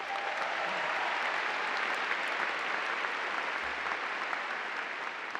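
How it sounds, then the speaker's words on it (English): An audience at a spring university commencement ceremony breaks into a round of applause, a thick, continuous roar of many clapping hands sustained at even volume for the whole stretch. "Would you please give them a round of applause?"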